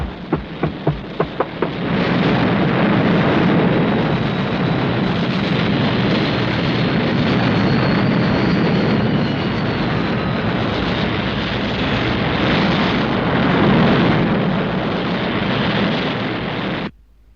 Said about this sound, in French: Hélas, c'est trop tard. La fusée est déjà partie.